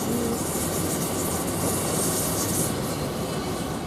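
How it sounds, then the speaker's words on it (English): An Elizabeth line train on the Liverpool Street to Shenfield service runs through Romford station, a steady loud roar of wheels and motors with a faint high squeal, no talk. "Now we've got another train coming through, which is the Elizabeth line"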